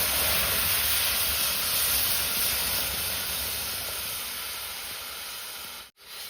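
Water poured into a hot tempering of cumin powder, ajwain and turmeric over a wood-fired chulha, giving a loud, steady hiss of steam that holds for several seconds and then cuts out abruptly near the end.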